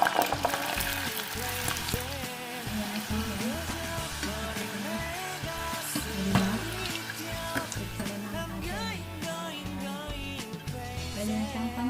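Steady, dense sizzling and frying from chicharon spaghetti cooking in a very hot pan, continuous and close throughout with stirring noises, no talk.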